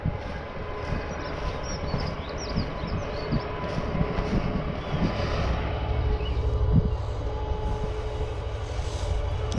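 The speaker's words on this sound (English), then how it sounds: "Oh, I hear a rumble." A train rumbles past at a distance near lakes in Wellingborough, a low continuous rolling roar that swells slightly midway, mixed with wind buffeting and faint birdsong, with no talking.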